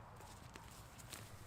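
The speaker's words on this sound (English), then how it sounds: "Hear footsteps, folks." Footsteps at a live property auction at a house in Karabar, NSW, heard as soft, faint steps over a steady room background with no talk.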